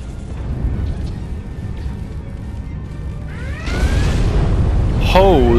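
Starship weapons fire and explosions rumble through a Star Trek Online space battle, a steady low roar that swells louder near the end, with sweeping energy-beam tones and a sharp burst over the last second.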